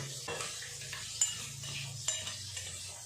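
Pabda fish fry in a pan with a steady hissing sizzle throughout, broken by a couple of light clinks of a utensil against the pan, close and without speech.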